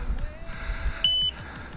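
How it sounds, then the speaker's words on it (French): A Furibee Drakmax drone with a battery-voltage detection fault gives a single short, high-pitched electronic warning beep. It sounds clearly over faint rhythmic low clicking nearby. "Ah, le fameux bip."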